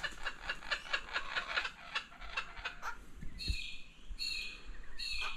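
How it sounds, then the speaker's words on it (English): Australian kookaburras call outdoors in a rapid, chuckling series of raucous notes that break into a few sharper, higher cries, moderately close with faint background ambience. "Australian kookaburra."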